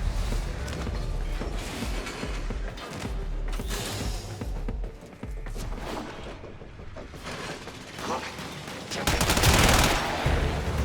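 Sustained gunfire in Warframe, a dense, continuous wash of rapid shots and clattering impacts, loud and busy throughout, with a brief lull midway and a heavy burst near the end.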